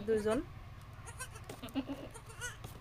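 Newborn goat kids, a litter of three, give a short, clear bleat at the start, followed by softer, intermittent bleats while a person talks nearby.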